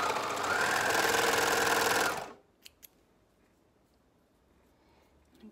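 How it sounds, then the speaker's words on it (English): An overlocker runs steadily for about two seconds as it stitches the short centre-back seam of a neck band, then stops abruptly, followed by a couple of faint clicks and quiet room tone. "I'm just going to overlock that."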